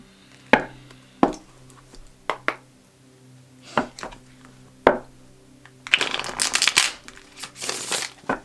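Tarot cards are handled with a row of separate sharp snaps and taps, then a dense, crisp riffle of shuffling near the end, close by and with no talking.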